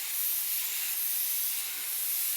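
Steady, close aerosol spray paint hissing continuously from a can for a couple of seconds, a bright airy rush with no voices.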